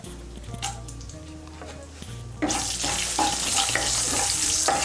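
Dry red chillies and whole garam masala of cardamom, cloves and a piece of cinnamon hit melted butter, starting with a quiet background hum and then bursting into a loud, steady sizzle with spattering crackles.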